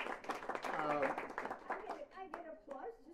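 Audience at a poetry reading clapping in a brief burst of applause, mixed with talking voices that continue over and after the clapping.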